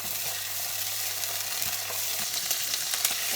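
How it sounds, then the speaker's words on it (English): Kapenta (matemba) frying in tomato sauce in a pan while being stirred, a steady close sizzle with scraping stir strokes and small pops throughout. "you keep on mixing and frying."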